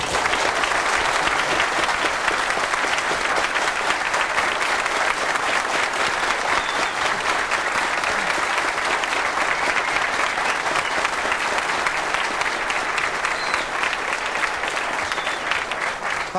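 Studio audience at an Icelandic television program from 1988 applauding steadily and loudly, a dense even clatter of clapping that holds at full strength throughout with no voices on top.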